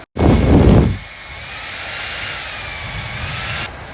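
Heavy rain pours during a thunderstorm at a farm, starting with a loud, close burst of noise and then settling into a steady, broadband hiss that fills the rest of the clip.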